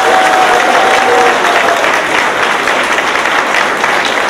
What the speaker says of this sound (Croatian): Pozdravite još jednim velikim pljeskom.